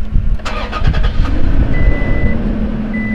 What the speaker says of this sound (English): we'll start the truck, and there'll be no issue at all